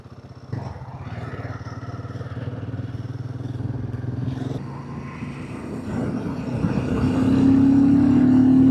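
Royal Enfield Himalayan 450 motorcycle engine while riding on a long highway run, a steady close thrumming exhaust note that swells louder toward the end as the bike accelerates, with wind noise and no talking.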